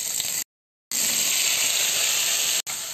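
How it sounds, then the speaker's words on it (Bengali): Tengra fish dropped into hot oil set up a loud, steady hiss-and-sizzle, cut by a short silent gap early on and a brief dropout near the end, with no voices. "তেল গরম হয়ে গেছে, এর মধ্যে আমি মাছগুলো দিয়ে দিচ্ছি।"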